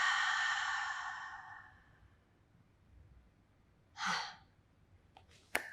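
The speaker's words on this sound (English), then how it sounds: "Deep inhalation with me, please. Exhale." A deep, slow exhale during a standing pilates breathing exercise, long and breathy at first and fading over about two seconds, followed by a short sharp intake of breath and a brief click near the end.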